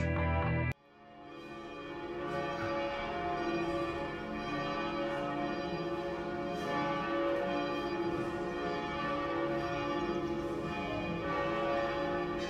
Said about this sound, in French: Alors que les cloches annonçaient la messe dominicale